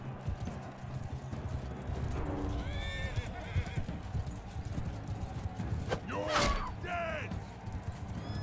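Horse in Mount & Blade II: Bannerlord, with a steady clip-clop of hooves and two loud whinnying neighs near the end, heard over background game noise and occasional talk.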